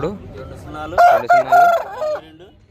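A red rooster crows at a Saturday village market in Mydukur, one loud, close, drawn-out crow rising and wavering over a quiet background.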